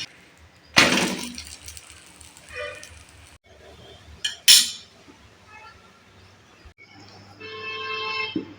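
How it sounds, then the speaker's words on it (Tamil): A tomato dosa being flipped on a pan with a spatula makes two sharp metallic clanks and scrapes, with quieter clinks and shuffling in between against a low background. "இப்போ தோசை திருப்பி போட்டுக்கலாம்"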